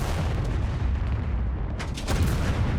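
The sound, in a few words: tank cannon fire hitting a Panzer IV in the Second Front video game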